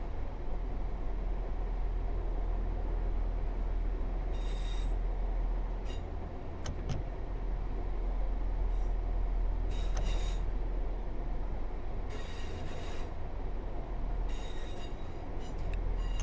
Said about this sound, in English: I can hear the diesel rumbling away